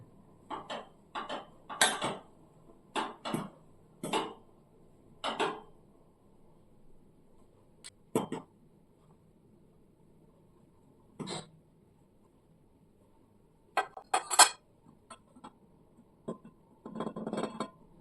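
Maggi noodles stirred in a pot with a fork, giving sharp metallic clinks and scrapes in scattered bursts with quiet gaps between, close and fairly faint.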